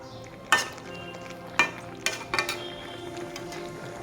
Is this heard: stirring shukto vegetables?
yes